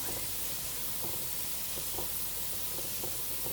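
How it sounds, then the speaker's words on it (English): Garlic frying in a pan until golden brown, a steady soft sizzle with faint crackles running evenly throughout, close and alone. "We're going to cook the garlic until it's golden brown"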